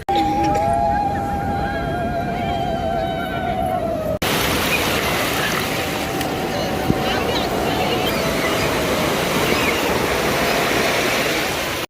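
Sea waves roll onto the shore at a beach on Kartik Purnima, a broad continuous roar of surf that swells loudly throughout, with a short tonal sound early on.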